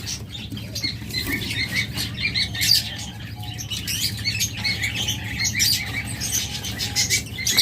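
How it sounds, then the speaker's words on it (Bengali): A pair of green-cheeked conures chirps in quick, bright, overlapping bursts, keeping up a busy stream of calls over a low background hum. "চমৎকার এই কোনোর জোড়াটা গ্রিন চিক কোনোর"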